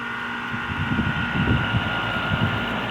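A Frigidaire heat pump in an apartment complex runs with a steady, close mechanical hum and broadband fan rush, its low drone fluctuating slightly throughout, with no voices.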